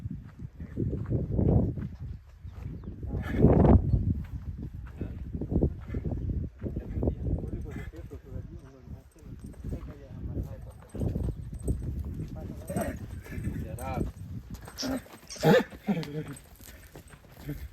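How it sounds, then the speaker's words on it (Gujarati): Jet-black horse and mare at a rural yard, hooves clip-clopping in an irregular walking rhythm, fairly close, mixed with frequent overlapping speech throughout. "ભીમભાઈ એની ઘોડી છે એને બતાવવા આવ્યો"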